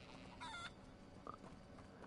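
A chicken in the Hogwarts Legacy game gives a few short clucks, faint and brief, over a quiet game background with no talking.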